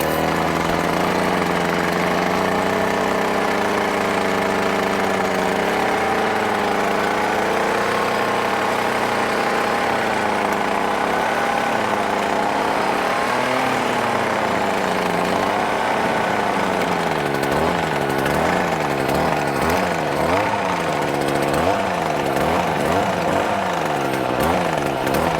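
A gas-powered power tool trims grass underneath a fence, its engine droning loudly and continuously nearby, with the pitch rising and falling repeatedly as the cutter revs and bogs down in the grass.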